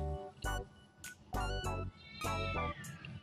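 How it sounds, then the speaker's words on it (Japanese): A cat meows loudly and nearby several times in a row, each cry clear and drawn out with short gaps between, heard alone without talk. "おお、猫も元気に鳴いてますな。"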